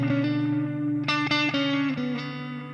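A distorted electric guitar played through a Tone City modulation pedal rings out in sustained wobbling chords with a few sharp re-strikes, loud and close, with no talk.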